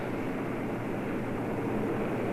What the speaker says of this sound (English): Here comes the Luftwaffe. In dozens of flights, hundreds of planes